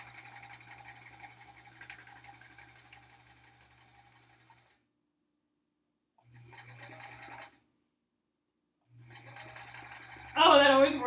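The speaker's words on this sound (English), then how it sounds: "We're basically sewing our square back together." Sewing machine stitching a quilt square, running in three close bursts with pauses of silence between them, a brief louder noise near the end.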